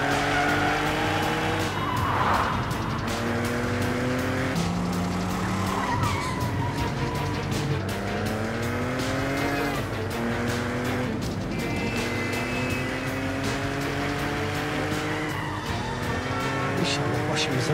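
A car speeds very fast with tires squealing and skidding repeatedly, engine notes sweeping up and down through the run, while people talk and shout over the noise.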